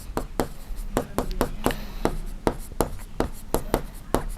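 Pen or chalk strokes tapping and scraping on a surface during a Class 6 maths lesson on ratios, a steady run of short, sharp marks in quick irregular rhythm, close and clear with no talking.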